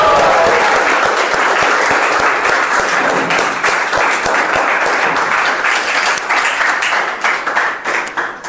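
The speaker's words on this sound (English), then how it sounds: "Give a warm round of applause for Toastmaster Subhash Barla." A Toastmasters meeting audience gives a warm round of applause, a loud, dense and sustained clapping that thins into scattered claps near the end, with a few faint voices underneath.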